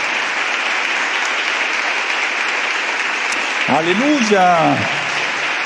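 Congregation clapping hands in praise at a Spanish-language church service, a dense, steady wall of clapping throughout, with a voice briefly calling out over it near the end.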